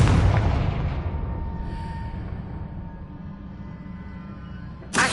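A Confringo blasting spell explodes in a video game, opening with a loud broadband blast that decays into a rumbling tail over several seconds, followed by a sharp new burst at the very end.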